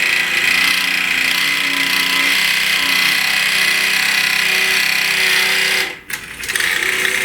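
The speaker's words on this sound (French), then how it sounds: "Et vous avez en plus de ça la benne qui se lève électrique" Electric motor of a 1955 toy dump truck raising its tipping bed: a steady, fairly loud mechanical whir with a buzzing hum that runs evenly, then cuts off abruptly near the end before a softer rattle resumes.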